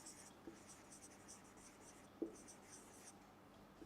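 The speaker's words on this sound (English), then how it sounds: "I will just write it down." A pen writing by hand during a spoken English lesson: quiet, faint scratching strokes in short bursts with a few soft taps, alone and close.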